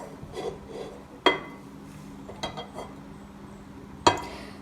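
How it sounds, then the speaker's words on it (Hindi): Food being mixed with mustard oil in a pan: soft scraping and rubbing, punctuated by a few sharp metallic clanks of spoon on pan, close and fairly quiet, with no talking. "थोड़ा सा मस्टर्ड ऑयल मैं इसमें डाल रही हूँ और इसको अच्छे से मिक्स कर देते हैं"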